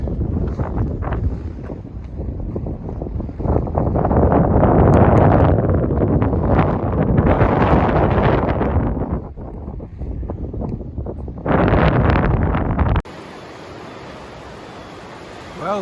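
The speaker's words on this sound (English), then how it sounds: "And it's windy and cold here." Strong wind buffets the microphone in loud, rumbling gusts that rise and fall for several seconds on a cold day on the Appalachian Trail near Hot Springs, North Carolina, then the noise drops away suddenly.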